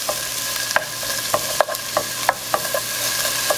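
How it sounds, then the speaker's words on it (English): Onions sauté in a pan for a Mexican rajas con queso dish, a steady close sizzle broken by repeated scraping stirs roughly every half second. "we want these onions to turn a little translucent before we add our next ingredient"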